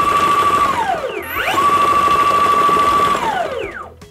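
Electric mini bike motor on a 24 volt LiPo spinning an off-centre pulley gives a steady high whine that sweeps down, rises again, holds, then winds down at the end. It is close and sounds on its own.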